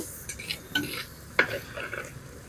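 Onion paste fries in oil inside a clay pot for gongura chicken, with close scraping stirs and clinks of a utensil against the pot over a soft sizzle.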